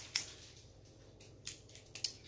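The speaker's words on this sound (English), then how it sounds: "Trusty scissors." Scissors snip at a package being opened for an unboxing, giving a few quiet, sharp cuts spaced apart over a faint background hush.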